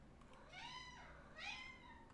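A pet cat meows twice indoors, two drawn-out rising-and-falling calls, faint and close with no talk over them.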